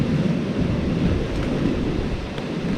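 Strong wind blasting across a microphone outdoors, a steady low roaring rumble that fills the whole stretch with constant buffeting and no pauses.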